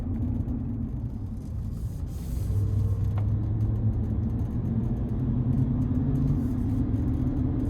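A 2026 GMC Sierra 1500 AT4X with a 6.2-litre V8, heard from the cabin while driving, gives a continuous deep, steady engine rumble that stays constant throughout with a faint low drone.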